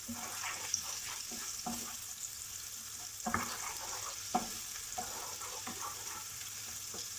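Garlic fries in a pan over medium heat with a soft, steady sizzle, broken by a few stirring taps and scrapes, fairly quiet, with no voices.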